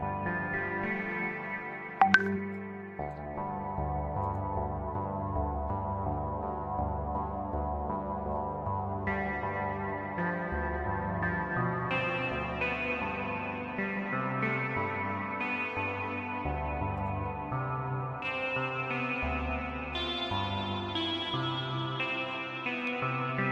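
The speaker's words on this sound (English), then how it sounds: "There is like a lot of reverb here." Synth game music for a one-person game jam, drenched in heavy reverb, sustained chords with long washy tails and shifting tones playing steadily for over twenty seconds, with a brief sharp click near the start.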